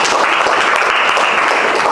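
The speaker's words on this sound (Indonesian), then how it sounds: "tepuk tangan dulu untuk temannya" Classroom applause for a student fills the room, dense and loud, with steady clapping from many hands throughout and no talk over it.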